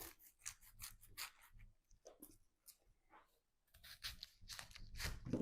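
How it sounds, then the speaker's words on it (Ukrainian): A knife cuts through half a cabbage with close, crisp crunching strokes in uneven bursts, separated by a quiet pause in the middle. "Все, ріжу другу половинку."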